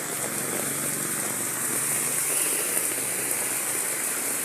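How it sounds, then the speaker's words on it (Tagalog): Heavy rain pours down in a steady, dense roar with no letup, loud and close throughout, with a faint low rumble underneath. "Sobrang lakas guys, yung ulan."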